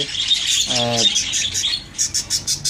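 Budgerigar chicks in a nest give a run of high, rapid chirps and squeaky calls close by, with a short harsher squawk partway through.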